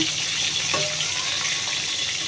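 Eggplant pieces dropped into very hot oil give a steady, broadband hiss that holds evenly throughout, close and moderately loud, with no voices.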